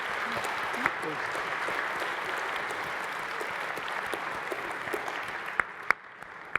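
Sustained applause from an audience in a room at an award event, an even wash of clapping with a few sharper claps and voices underneath, tapering at the end.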